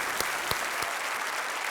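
A studio audience on the quiz show Kaun Banega Crorepati gives sustained, even applause, a dense crackle of many hands with a few sharper claps standing out near the start.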